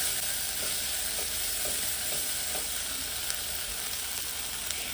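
Ginger garlic paste sautéing with browned onions for one-pot chicken rice, a constant close hiss of frying with soft periodic stirring strokes, no speech.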